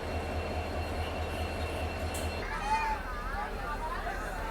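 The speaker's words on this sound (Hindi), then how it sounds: "ये देखो कोई तो डेमो ट्रेन है, इसके आगे अल्को लोकोमोटिव जो वो लगा हुआ है" A DEMU train hauled by an ALCO diesel locomotive rolls past, heard as a low steady rumble that drops partway through and gives way to squealing, screeching wheel tones, close by.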